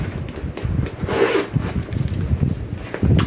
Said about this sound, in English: And it's got a really nice zipper.